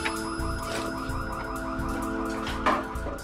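A security alarm linked to a monitoring company sounds as a steady, unbroken electronic tone, held evenly for the whole span with no voices.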